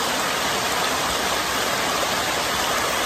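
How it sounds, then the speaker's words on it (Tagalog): A waterfall in a natural stream setting on a hill gives off a loud, steady, close rush of water, broadband and unbroken, with no voices over it. "Kasi yung tubig yung malakas."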